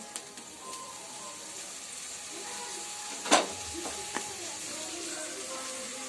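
Food sizzles in a hot pan while being stirred, a constant close crackle broken by a few sharp scrapes and knocks of the spoon.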